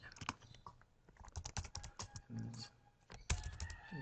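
Fingers typing on a computer keyboard, irregular bursts of close key clicks and taps with short pauses, fairly quiet.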